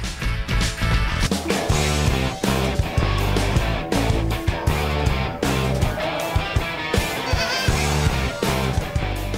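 Merino sheep and lambs bleat repeatedly, loud and close, overlapping calls in an irregular rhythm with no talk.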